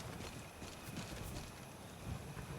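Horse hooves clip-clop in the video game Skyrim, a quiet, rhythmic series of hoof strikes at a steady walking pace over a low ambient background.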